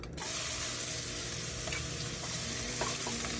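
Ginger sizzles loudly in hot cooking oil in a pan, a dense continuous crackle with a few brief scrapes of stirring, close and steady, without speech.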